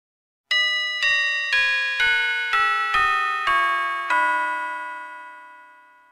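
An eight-note peal of church bells from a thirteen-bell ring, rung using the sharp second bell: eight clear strikes in even rhythm stepping down in pitch, the last one ringing out and fading, with nothing else heard.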